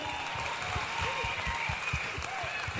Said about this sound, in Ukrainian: Ваші оплески нашим конкурсантам.